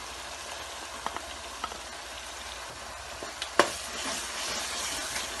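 Tinned tomato paste frying in a pan for dhaba-style handi chicken, a steady hiss and sizzle that grows livelier after a sharp clink partway through, with a few faint taps along the way.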